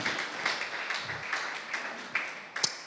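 A church congregation applauding at an evening seminar service, a moderate, scattered patter of clapping that rises and falls in soft bursts, fairly distant and alone.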